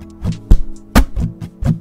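Acoustic guitar body percussion played slowly by hand, a thumped bass hit alternating with sharper snare-like taps on the wood in an even, close, isolated rhythm.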